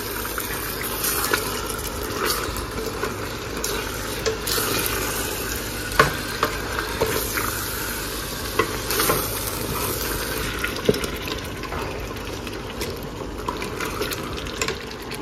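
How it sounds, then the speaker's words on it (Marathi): Chicken biryani is stirred in a pot as it boils, giving steady close bubbling and sizzling with scattered sharp scrapes and clicks of the spoon against the pot. "पुन्हा एकदा मस्तपैकी मिक्स करून घ्यायचं आहे."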